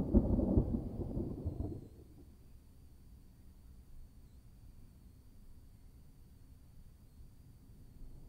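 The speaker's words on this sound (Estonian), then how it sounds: "Öösel tuleb jälle äikest." Distant thunder rolls as a low, muffled rumble, loudest in the first two seconds and then fading into a faint, steady background murmur.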